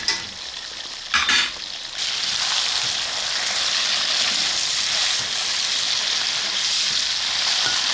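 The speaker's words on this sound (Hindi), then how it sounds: "ये चिकन हमारा तकरीबन फ्राई हो गया है।" Chicken frying in hot oil for Peshawari chicken karahi, a steady loud sizzle that carries on throughout, with a brief clatter of stirring near the start.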